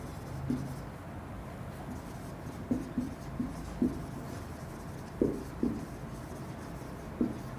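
Chalk or marker strokes on a classroom board during an English grammar lesson, a series of short scratchy taps and scrapes spaced irregularly, fairly quiet with faint room hum and no talk.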